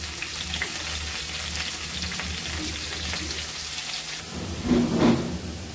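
Dill greens (shepu) tipped into hot oil over low heat for a spicy Maharashtrian bhaji give a steady close hiss of frying, swelling louder for a moment near the end as more leaves go in.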